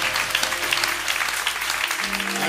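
Church congregation applauding steadily for an honoured elder at a Sunday choir service, a dense, even wash of clapping from many hands across the room, with no talk over it.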